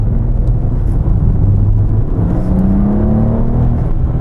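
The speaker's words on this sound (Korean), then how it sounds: "RPM을 좀 끌어올려 볼게요." A Maserati Ghibli S Q4 GranSport sedan engine rumbles loudly and climbs in pitch as the revs rise, a smooth, steady engine note heard up close while driving.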